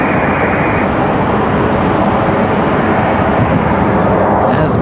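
A Mesa Airlines jet touches down at Raleigh-Durham International, a loud, steady broadband roar of engine and wind noise that holds throughout, with a voice talking over it.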